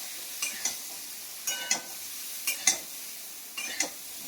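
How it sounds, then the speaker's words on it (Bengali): Snake gourd fries in a pan with a steady, moderate sizzle, broken by pairs of sharp scraping stirs against the pan at regular intervals; no voices. "আর এখানে আমার কি হচ্ছে, চিচিঙ্গেগুলো ভাজি হচ্ছে"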